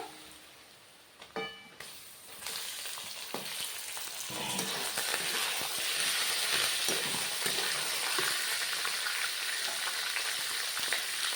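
Chicken dropped into a pan of browned onion, setting off a loud, steady sizzle of frying that swells after a brief clatter and holds continuously, close and without talk.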